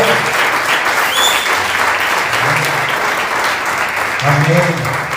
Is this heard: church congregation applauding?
yes